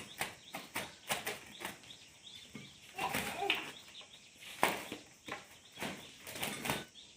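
Irregular bursts of a pigeon's wing flapping, close by, several quick flurries separated by short pauses, with faint bird sounds in the background.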